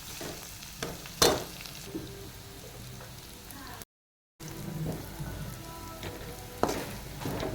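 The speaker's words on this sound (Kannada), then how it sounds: "ಸ್ವಲ್ಪ ಹುರ್ಕೊಳ್ಬೇಕು, ಒಳ್ಳೆ ಫ್ರೈ ಆಗಬೇಕು" Onions frying in a pan for a rajma curry, a soft crackling sizzle with occasional louder stirring knocks and scrapes, briefly cut off midway before the gentle sizzle resumes.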